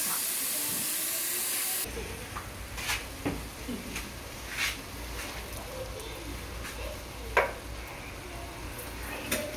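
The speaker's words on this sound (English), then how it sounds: "I'm going to let that cook down for about 5 minutes" Dirty rice mixture simmering down in a pan, a steady soft hiss of steam and bubbling with scattered faint pops and clicks, fairly quiet throughout.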